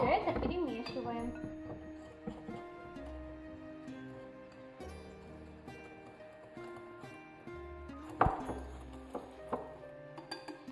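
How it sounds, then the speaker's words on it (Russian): Eggs, sugar and flour are stirred in a bowl for a classic honey cake, with scattered light clinks and taps against the bowl over a steady tonal background, growing sharper toward the end. "В миску кладем яйца, сахар и муку. Все это перемешиваем."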